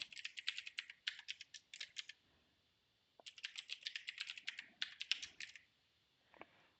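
A password is typed on a computer keyboard in two quick bursts of rapid clicky keystrokes separated by a short pause, close and clear, with a few single taps after.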